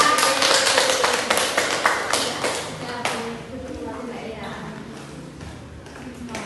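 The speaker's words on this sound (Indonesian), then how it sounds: "Tepuk tangan untuk Mbak Eva." Classroom applause from students after a group presentation, a burst of dense hand claps at first that thins and fades over several seconds, close and fairly loud.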